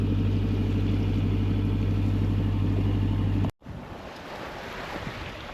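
Steady roar of wind and waves aboard a sailing boat in the Atlantic, loud and continuous, briefly cutting out before resuming with a rushing wash.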